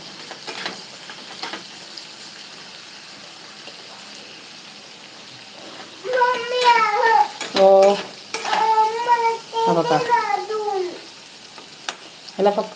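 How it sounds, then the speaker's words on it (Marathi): Vegetables steaming in a covered pan give a steady soft hiss, broken in the second half by louder tonal bursts and clatter. "अशी वाफेवरती फक्त मी शिजवून घेत आहे"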